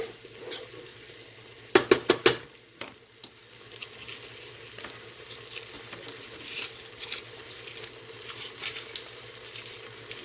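Cow foot sizzling in a pot while being stirred, with scraping clatters and a short burst of louder spoon knocks early on, then a quieter ongoing sizzle and occasional taps.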